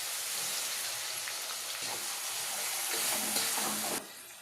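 Chutney spooned into hot oil already tempered with curry leaves and garlic sizzles in a pan, a steady crackling hiss that holds for several seconds and then drops off suddenly near the end.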